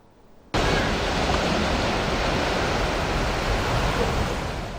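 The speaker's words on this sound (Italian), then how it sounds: "Solo il rumore del mare è l'unico suono che in questo weekend si percepisce a Jesolo" Steady broadband roar of sea waves breaking on the beach at Jesolo, loud and continuous after a brief quiet start, with no voices.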